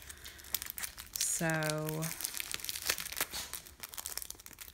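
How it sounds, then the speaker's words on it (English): A plastic sticker package crinkles and tears open close by, with a bright rising squeak partway through, while someone speaks softly over it. "inside we've got a nice little package of stickers"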